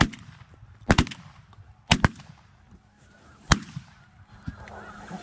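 Geese honk repeatedly through a duck and goose hunt with no blinds, their calls set against several sharp, loud shotgun blasts that come in quick pairs and singles close by.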